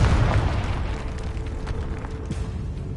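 A Confringo blasting spell explodes in Hogwarts Legacy, a loud booming blast at the start that fades into a rumbling decay.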